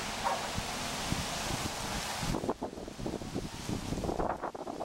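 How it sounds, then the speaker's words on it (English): Outdoor wind gusts across the microphone with a broad hiss and low buffeting rumble, turning choppier and more gusty partway through. "Beautiful day out here,"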